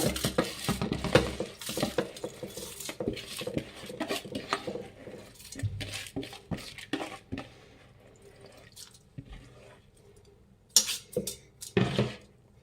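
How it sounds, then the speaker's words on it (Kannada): Washed rice and toor dal tipped into a pressure cooker for bisi bele bath, giving a run of clinks, scrapes and light clatter against the metal pot with short quiet pauses and no talking. "ಅಕ್ಕಿ ಬೇಳೆ ಎಲ್ಲ ಕುಕ್ಕರ್ಗೆ ಹಾಕ್ಕೊಳ್ಳೋಣ"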